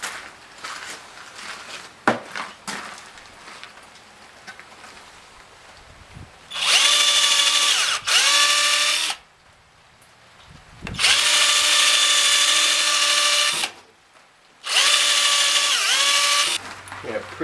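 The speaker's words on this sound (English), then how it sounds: "We're going to pre-tap the holes for the screws." A power drill pre-drills screw holes in a wooden garden trellis, running in three loud, sustained whining bursts with pitch dips and brief pauses between them, after quieter handling and tapping sounds.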